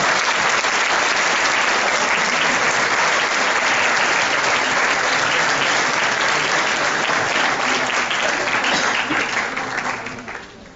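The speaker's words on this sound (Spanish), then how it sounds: "Un aplauso, por favor, para la doctora." An audience at a law faculty lecture on cybercrime breaks into loud, dense, sustained applause for about ten seconds, tapering off at the end.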